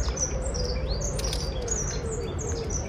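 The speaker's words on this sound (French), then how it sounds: "Écoutez le chant des oiseaux." Birds sing and chirp in a small square in Paris, with several overlapping tweets and whistles over a steady low city hum, fairly close, with no talking.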